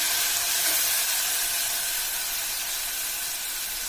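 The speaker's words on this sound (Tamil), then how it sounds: "நல்லா இஞ்சி பூண்டு சேர்த்ததுக்கப்புறம் எண்ணெயில் நல்லா வதக்கி விடுங்க." Ginger and garlic sautéing in hot oil for tomato rice, a steady broad sizzling hiss that stays constant and close throughout with no pauses or talk.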